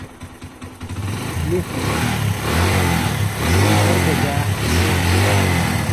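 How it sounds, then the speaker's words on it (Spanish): A Suzuki motorcycle, just repaired after an electrical fault kept it from starting, cranks and catches, then idles and revs up and down loudly close by, with someone speaking briefly at the start. "ahorita voy a encender pues la moto"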